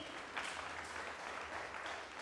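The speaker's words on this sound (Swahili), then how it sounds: "Pigia Yesu makofi." Worshippers at a church service applaud for Jesus, a soft, continuous wash of clapping heard from some distance, faint and even throughout.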